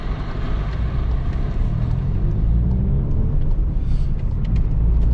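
A Volkswagen Golf GTI Clubsport S driving past a construction site, a steady deep engine and road rumble heard from inside the car, continuous and fairly loud with no speech.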